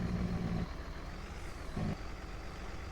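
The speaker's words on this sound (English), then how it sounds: "we're just hitting a Jake brake here" A farm truck hauling harvested oats and engine-braking with its Jake brake while heading downhill, a low steady engine rumble with two brief humming swells.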